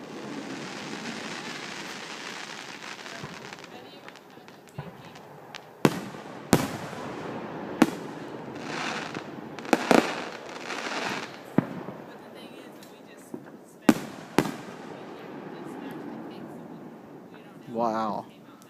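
Fireworks burst on the Fourth of July, sharp loud bangs scattered irregularly over a continuous crackling rumble, with excited voices talking throughout.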